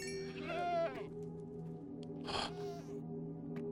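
Minecraft goats bleating, two separate bleats, one early and one later, clear over a low steady game background hum, fairly close with no talk.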